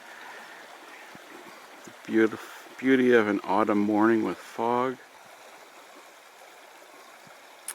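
A river flows nearby on a foggy autumn morning along a railway line, making a steady, soft, rushing wash throughout, with a person briefly speaking over it midway.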